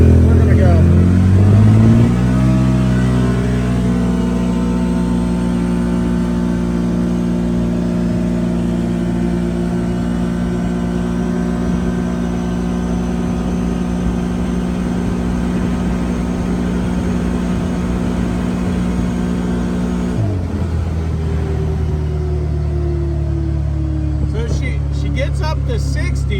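A CFMOTO UFORCE 1000 UTV with a jerky throttle revs hard under full throttle, its engine note climbing steadily and loudly, then dropping with a shift before climbing again.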